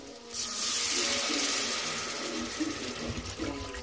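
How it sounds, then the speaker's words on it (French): Hot water is poured into a pot of garlic tourin soup, a steady splashing, gurgling stream that starts abruptly and runs for a few seconds before tapering off, with no talking. "Alors, on rajoute de l'eau chaude."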